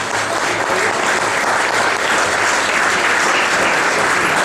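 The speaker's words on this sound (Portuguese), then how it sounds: "recebendo os aplausos." Dense, sustained applause from an audience at a regional press gathering, welcoming an organizer to the front; the clapping stays loud and even throughout with no talking over it.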